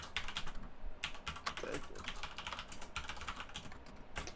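Fast, continuous clatter of computer keyboard keys close up during an online drawing and guessing game, the clicks running steadily with a few short breaks.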